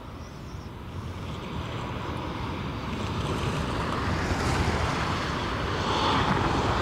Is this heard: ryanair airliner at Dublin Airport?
yes